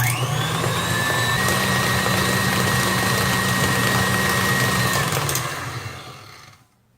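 An electric mixer creams oatmeal raisin cookie batter with nutmeg, giving a loud, steady high-pitched motor whine that runs evenly for several seconds and then winds down and stops.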